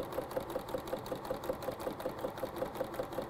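Sewing machine chain-piecing quilt strips for a table runner, its needle hammering in a fast, steady rhythm of evenly spaced stitches, close and continuous with no talk.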